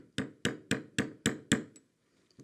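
A metal disc is struck in a doming block with a dapping punch, six sharp, evenly spaced hammer blows ringing close and clear, then a faint tap or two as the work settles.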